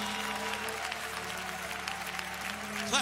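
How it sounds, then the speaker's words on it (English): Congregation clapping hands together at a church youth conference service, a steady, dense patter of many hands filling the room, with a voice or music faintly present beneath. "Clap your hands unto Jesus because He's worthy"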